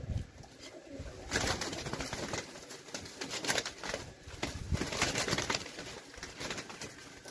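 Young tumbler pigeons coo softly in a coop, a faint, steady murmur of low calls with light rustling and no voices.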